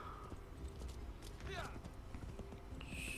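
Horse hooves clip-clop in the video game Assassin's Creed III, a quick steady gallop under a busy game soundscape with scattered effects, moderately faint.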